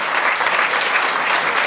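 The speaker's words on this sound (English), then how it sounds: "So Greg and Lori, would you please stand and take a round of applause?" Steady, full applause from an audience at a scholar-athlete awards presentation, honoring a student's parents as they stand; close, dense clapping that holds level throughout.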